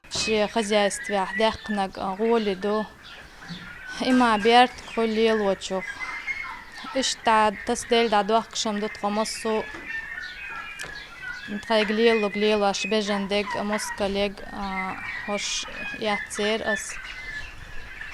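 Turkeys and chickens on a family poultry farm in Nadterechny District gobble and cluck in bursts, with a voice talking in between and over the birds.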